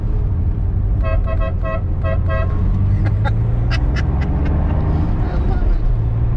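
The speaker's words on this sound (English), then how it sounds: "I just want you to hear this horn" Horn of a classic Porsche 911 SC sounding as a series of short, bright beeps of even rhythm, then a few separate louder blasts, heard close over steady traffic and street rumble.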